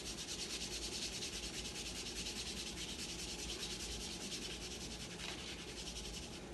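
Steady, continuous rubbing of a palm over kinesio tape freshly applied to a knee, a soft dense friction hiss that holds at an even level for several seconds with no voices.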